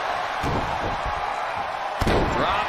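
A wrestling strike slams into an opponent's lower back during a WWE Iron Man match, Brock Lesnar versus Hulk Hogan; two sharp, heavy thuds land about a second and a half apart over a constant roar of arena crowd noise.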